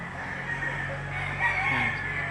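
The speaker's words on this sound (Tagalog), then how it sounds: "Bali 7 manok ito." A rooster crows at a livestock auction market, a close, loud drawn-out call over a steady background hum of the market.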